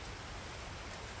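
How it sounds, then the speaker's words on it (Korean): Rain falls steadily on a vegetable garden of lettuce during the monsoon season, a dense, even hiss of drops with no break. "비가 와가지고"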